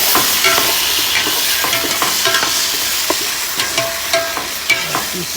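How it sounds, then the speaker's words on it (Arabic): Tomato paste frying in a pot and being stirred, a loud, steady sizzle with repeated scraping and tapping of the spoon, close up and without any voices. "نعطي معجون الطماط نحمسه شوي"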